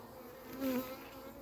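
Honeybees buzz at an opened hive being balanced, a short soft drone that briefly swells louder as one bee passes close, alone without talk.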